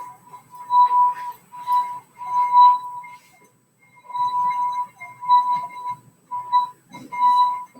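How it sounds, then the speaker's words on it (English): Wet glass rim rubbed with a finger to make it resonate, giving a pure ringing tone that swells and fades in repeated strokes, with a short pause midway. "that's the natural frequency of the glass"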